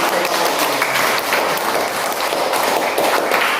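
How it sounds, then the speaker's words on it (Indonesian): A class of schoolchildren claps steadily throughout, a dense, even patter of many hands close by, with a few young voices mixed in under the clapping. "kita berikan tepuk tangan dulu untuk kita yang sudah"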